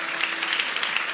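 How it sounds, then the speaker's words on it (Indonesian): A church congregation applauds, a steady wash of clapping, fairly loud and close, with no voices over it. "berikan tepuk tangan buat Tuhan"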